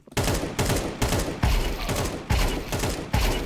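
Short bursts of automatic rifle fire in Counter-Strike come in a quick, evenly spaced series of loud, close volleys, each a rapid cluster of shots with brief gaps between bursts.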